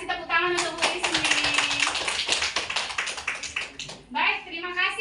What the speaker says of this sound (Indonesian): kasih tepuk tangan untuk Bu Ismi